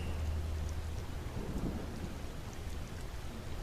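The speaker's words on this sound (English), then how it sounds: "listening to the sound of the rain" Steady, dense rain falls with a low thunder rumble rolling underneath, a continuous moderately quiet wash of sound with no voices.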